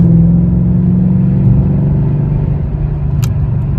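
A stock Mercedes C32 or E55 AMG engine runs at half throttle, a loud, steady low rumble with a deep droning tone, heard close and alone.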